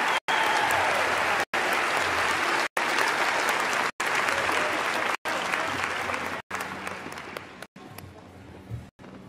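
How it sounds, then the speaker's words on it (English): Sustained audience applause fills an arena at a basketball Hall of Fame induction ceremony, loud and steady throughout with several brief gaps, then thinning slightly toward the end. "Let's have one more round of applause for Kim Mulkey, Eddie Sutton, and Rudy Tomjanovich."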